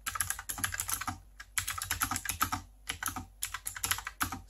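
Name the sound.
typing on WOTIMILON WM87 mechanical typewriter keyboard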